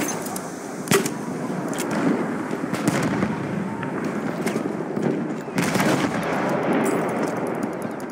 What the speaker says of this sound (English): Machine gun. Spotted it now.